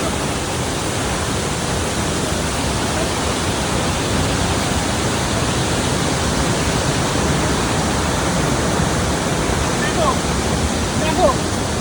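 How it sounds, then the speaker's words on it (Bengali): A waterfall and rushing stream roar in a steady, dense wash of noise, loud and continuous with no breaks, filling the whole scene. "এই হচ্ছে সেই ঝর্ণা যেটা ওদিক থেকে আসছে"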